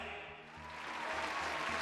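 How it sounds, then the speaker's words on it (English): Crowd cheering and applauding at a Gotham mayoral announcement, a short burst of clapping that swells and grows louder, heard at a moderate distance. "The crowd erupts in cheers"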